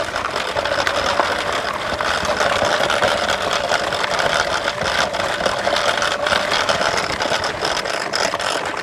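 Gotrax GKS kids electric scooter climbing a hill over gravel, a steady close rattling crunch of tires and motor noise that continues without pause and without talking.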